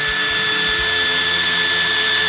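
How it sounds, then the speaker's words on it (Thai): A KEYANG DM18BL-W cordless drill bores into wood, a steady high-pitched motor whine running close and loud throughout, with a few low thumps near the start as the bit bites and backs out. "เวลาที่เราเจาะไม้นะครับเราจะย้อนกลับครับ"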